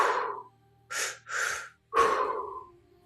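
Open-mouth breathing in a pattern of two quick inhales followed by one long exhale, airy and close with brief pauses between breaths.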